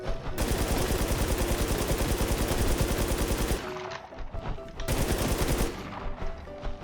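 Continuous rapid machine-gun fire plays in the video game Warz JapanZ, loud and close, with two short pauses in which a chiming game tone sounds before the shooting resumes.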